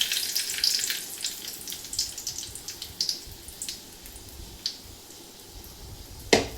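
Two or three dried red chillies frying in hot oil, a soft crackling sizzle with scattered pops and a sharp spike near the end, fairly close and without talk.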